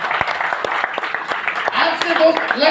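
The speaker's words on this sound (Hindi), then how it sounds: "जोरदार तालियां" Audience applause at a motivational speech in a hall, steady rapid clapping from many hands throughout, with voices and cheering rising under it toward the end.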